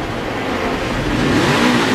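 A NASCAR stock car engine cranks and catches on pit road, a dense, loud, rough mechanical roar that builds slightly over a couple of seconds with no talk.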